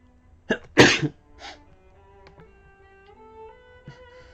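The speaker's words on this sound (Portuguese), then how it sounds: "Desculpa o espirro aí." One sharp, loud sneeze close by, with a short intake of breath before it. A few faint small noises follow in a quiet room.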